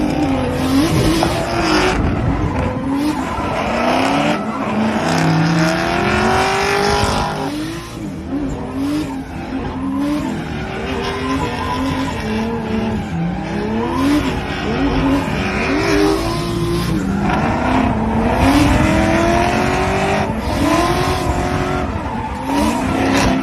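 Race car on a skid pad at Hyperfest, engine loud and close, revving steadily with repeated rising and falling pitch sweeps and tire squeal as it circles, running in a train with other cars.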